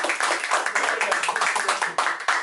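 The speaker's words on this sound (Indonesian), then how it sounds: "Tepuk tangan lagi." A small group claps during a podcast recording, quick distinct hand claps close to the microphone in a loose rhythmic patter, fairly loud and with no speech over it.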